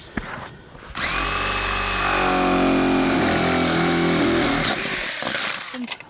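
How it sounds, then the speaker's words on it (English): A power drill with a paddle bit whines loudly and steadily for several seconds as it bores through roof decking, its pitch dipping slightly under load before it stops. "get a paddle bit and a drill to drill a hole through the decking"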